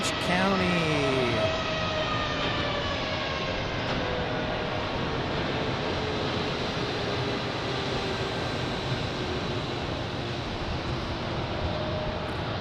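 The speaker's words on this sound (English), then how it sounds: "American Airlines A319 going to Orange County" An American Airlines Airbus A319 jet roars at Phoenix Sky Harbor Airport, a loud, steady broadband rush with a whining tone sweeping down early, while someone talks over it.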